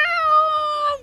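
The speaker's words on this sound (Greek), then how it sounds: "Οι γάτες." A cat's single drawn-out meow, loud and close, with a steady tone that falls away at the end, heard alone.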